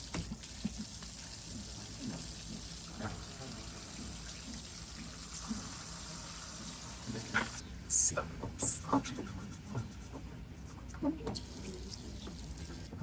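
Water runs and trickles into a Nordhavn boat, a steady, faint splashing flow like a running tap, with people talking quietly over it and a few sharp knocks near the end.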